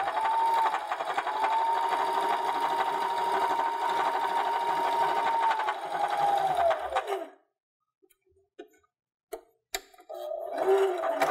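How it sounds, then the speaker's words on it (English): Domestic sewing machine stitching fabric for a sunglasses case, a steady whirring motor hum with rapid needle ticking for about seven seconds, then near silence with a few soft clicks before the machine briefly runs again. "I'm just back stitching at the end to make sure my stitches are secure."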